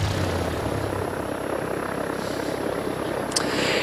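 A small plane's engine drones steadily and loudly throughout, a dense continuous roar with no talk over it.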